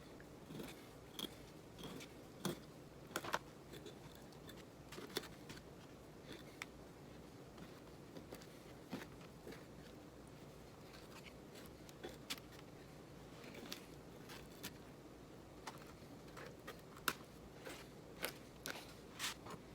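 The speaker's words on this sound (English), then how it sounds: "now we're going to cut our strips into little chunks" A knife chops carp strips into small chunks on a board, faint close taps repeating irregularly over a quiet background.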